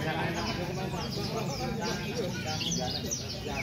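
Gloster canaries at a bird market in Klaten chirp in quick rising tweets over a busy, crowded background hum, with voices mixed into the steady din.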